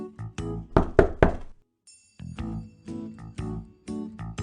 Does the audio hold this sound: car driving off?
no